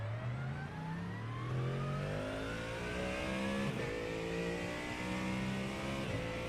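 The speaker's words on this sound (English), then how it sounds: "this car sounds so good" A GT3 race car in the iRacing simulator, a Mustang, revs continuously and loudly, its engine pitch climbing through the gears with brief dips at each shift, with no talk over it.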